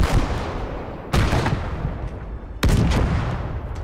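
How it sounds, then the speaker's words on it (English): Artillery fire in a WWII video game set in hedgerow country, two heavy booming blasts a second and a half apart, each rolling into a long rumbling decay, loud and close. "We just learned that I can control artillery myself"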